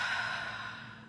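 Someone breathes out slowly during a guided breathing exercise, a single soft, airy exhale close to the microphone that gradually fades.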